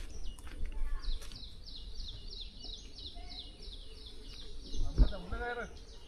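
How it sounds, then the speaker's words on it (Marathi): Birds chirp in quiet countryside near Sankshi Fort, a repeated run of high, evenly spaced calls over a soft background hum, with a brief low thump near the end. "इथल्या शांततेमध्ये तुम्ही बॅकग्राऊंडला आवाज ऐकू शकता पक्ष्यांचा किलबिलाट"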